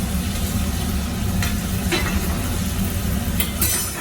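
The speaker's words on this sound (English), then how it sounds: "We're just going to saute all of this together real nice." Pasta with Alfredo sauce sautéing in a pan, a steady dense sizzle and bubbling hiss throughout with a few faint stirring scrapes, close and continuous.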